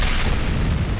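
A rocket detonates in the shooter game Command & Conquer Renegade, a single heavy, booming blast that fills the short moment and rumbles out loud and close.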